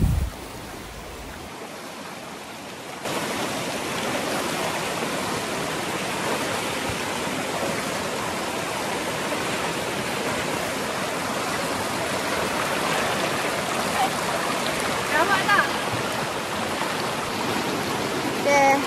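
Shallow stream during a hiking crossing, a continuous close rush and splash of running water that starts abruptly and stays loud and steady, with people talking faintly over it.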